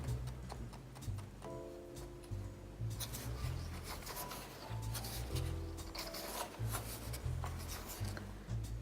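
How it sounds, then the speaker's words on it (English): Stir stick scraping around the sides of a plastic cup of mixed resin, steady rubbing and rasping strokes close by, with intermittent clicks and a faint hum underneath. "I'm scraping the sides of the cup, I'm scraping the stir stick"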